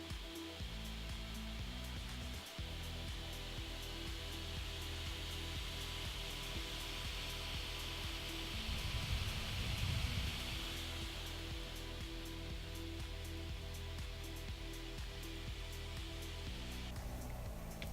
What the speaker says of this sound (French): Donc il y a 3 ventilateurs qui soufflent extrêmement fort.